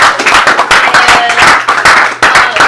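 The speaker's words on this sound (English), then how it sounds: "Round of applause for this guy." An audience at a leadership talk claps for a guest, with loud, close hand claps in an uneven rhythm that swell and dip, the individual claps standing out clearly.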